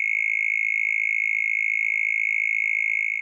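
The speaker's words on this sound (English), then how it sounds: "This mole cricket example contains a similar cluster to an earlier example," Synthesized mole cricket chirp with a steep bandpass filter, a steady, loud, pure buzzing trill held unbroken for about three seconds before cutting off.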